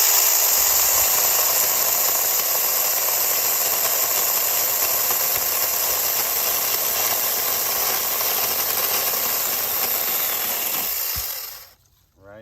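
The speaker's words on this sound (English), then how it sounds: "So let's see how it'll cut this thick branch." Mini rechargeable battery chainsaw cutting through a thick branch, a steady, loud, high-pitched buzzing whine that holds for about eleven seconds, then cuts off abruptly as the blade stops.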